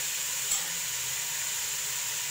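Ingredients for shaljam gosht fry in a pan with a steady, even sizzling hiss that holds at a constant level throughout, close and continuous with no talking.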